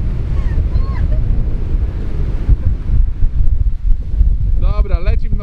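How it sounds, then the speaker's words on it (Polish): Strong wind gusts at a tropical beach as a storm front moves in from the sea, a steady loud rush and buffeting on the microphone with surf mixed in, and brief whistling tones near the end. "No ale wieje. Nie jakoś bardzo ostro, ale zobaczcie."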